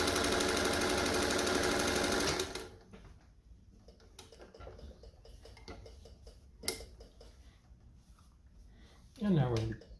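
A restored Singer 201-2 sewing machine stitches in a dense, fast whir for a couple of seconds, then stops, leaving soft scattered clicks and a brief handling noise.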